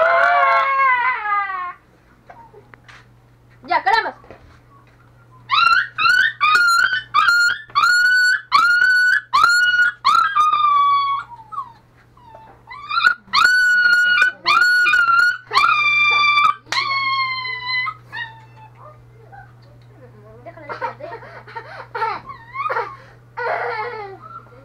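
A dog howls and whimpers in long, wavering bursts, several drawn-out howls separated by short pauses, loud and close, over a steady low hum.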